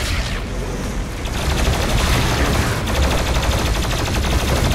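The BFG 10,000 fires in the video game DOOM Eternal, a loud, dense barrage of rapid booming blasts and crackling energy that roars continuously, with a heavier surge partway through.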